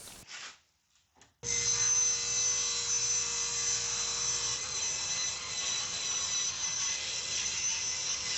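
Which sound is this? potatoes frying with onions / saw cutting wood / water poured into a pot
saw cutting wood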